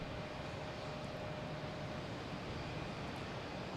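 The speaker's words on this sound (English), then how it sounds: "clear for takeoff. KLM heading back to Amsterdam on the 777." A KLM Boeing 777 airliner takes off at Boston Logan Airport, its engines a faint, distant broadband roar holding steady throughout.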